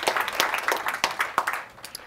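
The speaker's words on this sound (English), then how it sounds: "Can we give her another round of applause?" Audience applause for a senator at a morning policy event on women's rights, a steady patter of many hands clapping through the whole stretch and fading slightly toward the end.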